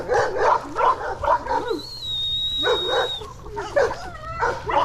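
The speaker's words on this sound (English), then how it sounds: "Now the dogs are going crazy." Young Cane Corso puppies, seven weeks old, bark in repeated yappy bursts and whine between them, close by and excited at feeding time over raw chicken; a long thin whine holds steady through a lull.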